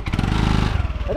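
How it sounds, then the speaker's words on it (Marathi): A Bullet motorcycle with a torn silencer revs briefly, giving a loud, close, rough pulsing engine note that climbs slightly in pitch toward the end. "गाडीचं आमच्या बुलेट झालं आहे, गाडीचं सायलेन्सर फाटलं आहे, गाडी चालू आहे. एकदा रेस दे ना."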